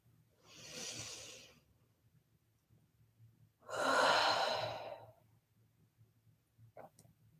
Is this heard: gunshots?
no